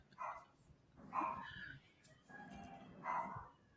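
A dog barks faintly in the background, three short muffled barks spaced about a second apart, with the room otherwise quiet.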